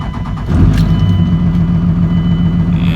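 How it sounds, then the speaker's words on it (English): 24-valve Cummins diesel truck engine cranking and catching, a short thump into a loud steady low rumble that settles into idle, close by with no talk. "I'm going to go ahead and start this truck up"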